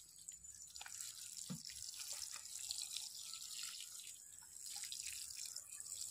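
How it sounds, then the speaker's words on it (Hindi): Water poured onto garlic plants growing in a rooftop garden, a steady close splashing and trickling stream running throughout with a few brief drips and gurgles. "बर्तमान पानी दे देलु।"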